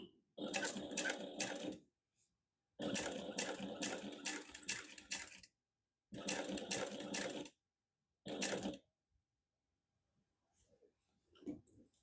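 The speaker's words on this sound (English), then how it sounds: "When you back stitch on this, you just want to make sure that you stay in the same stitching." Home sewing machine back stitching a seam on a bifold slim wallet, running in four rapid whirring bursts separated by pauses, close and clear, with faint handling noise at the end.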